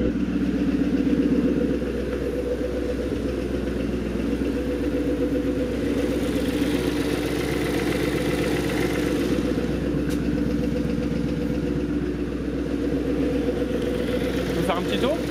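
A Maserati 3200 GT idles with a steady, low mechanical rumble that runs evenly from start to finish, with a faint higher ticking layered over it.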